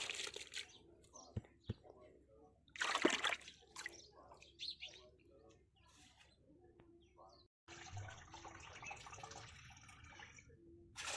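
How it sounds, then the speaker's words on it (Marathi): Soaked ground wheat washed by hand in a tub of cold water, with splashing, sloshing and crinkling sounds in bursts, a clatter partway through, and a voice speaking between them. "पूर्ण थंड पाण्यामध्ये मी धुवून घेणार आहे"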